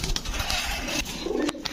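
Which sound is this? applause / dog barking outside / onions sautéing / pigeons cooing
pigeons cooing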